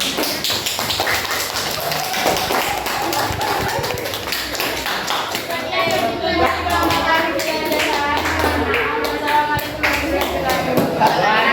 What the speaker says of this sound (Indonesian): silakan beri tepuk tangan pada